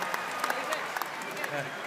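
Crowd applause at a professional basketball championship game between the Sydney Kings and New Zealand Breakers, a brief, steady patter of many hands clapping with a few sharper claps, under a voice talking.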